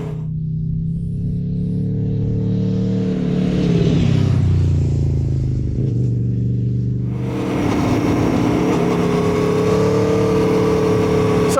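Aprilia Tuono V4 1100 Factory motorcycle's V4 engine running loud and close, a steady rumbling drone that swells as the revs climb, holding strong throughout with no talking over it.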